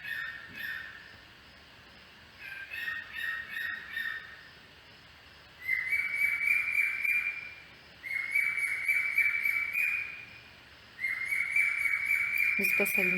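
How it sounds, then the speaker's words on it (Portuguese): Small birds sing repeated bursts of high chirping and trilling phrases with short gaps between them, clear and fairly close against a quiet background. "Os passarinhos cantam o hino nacional."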